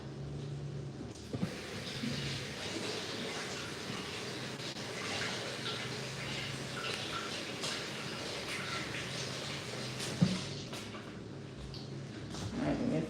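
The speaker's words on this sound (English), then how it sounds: "Alright, rinse this off." Running tap water pours steadily into a sink while produce is rinsed under it, a faint continuous splashing hiss with brief louder splashes as the food is moved through the stream.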